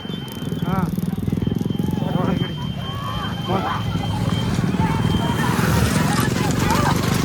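Horse-drawn race carts pass during a cart race in Ghonasagi, with a fast, busy clatter of hooves close by under loud, continuous shouting and talking from a crowd.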